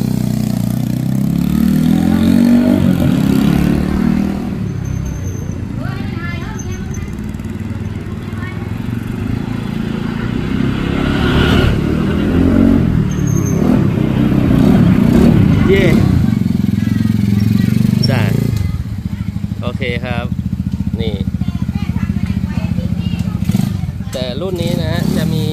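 A Ryuka Gorilla 125 motorcycle, revived after two to three years parked and fitted with a custom exhaust, runs loud and close with a steady mid-pitched idle and occasional revs, while someone talks over it.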